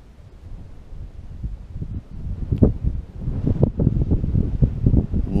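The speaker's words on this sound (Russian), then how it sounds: "Но ветер ужасный." Strong gusting wind batters the microphone outdoors while fishing on the grassy-bottomed upper Beloyarka river, a steady low roar that rises and buffets louder toward the end, with no talk.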